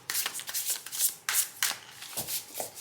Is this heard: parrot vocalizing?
no